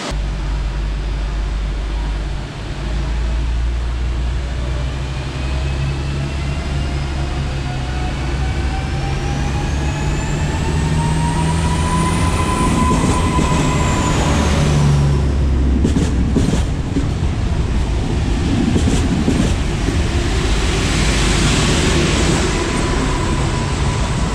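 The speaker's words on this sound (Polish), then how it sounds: "Słyszeliście ten charakterystyczny dźwięk silników impulsowych, elektrycznych" An electric train on the Szczecin–Kołobrzeg line in Poland pulls away, its electric motors whining with rising and falling tones over a steady rumble, close by and loud throughout.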